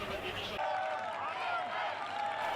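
A loud, excited crowd roars and cheers at a high school football game, a steady wall of noise with a commentator talking over it.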